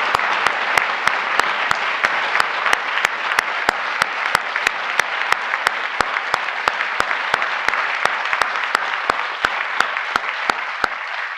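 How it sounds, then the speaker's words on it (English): Applause for the president at a UNESCO reception, a sustained, dense roar of many clapping hands, fairly loud and even from start to finish, with sharp clicks ticking through it. "Please give him another round of applause."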